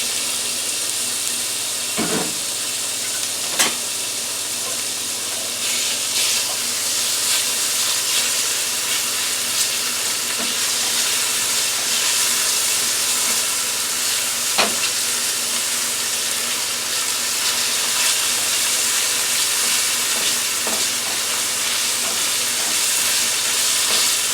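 Beef cut from a T-bone steak sizzles steadily in a hot frying pan, a continuous crackling hiss with a few sharp pops and spatters scattered throughout.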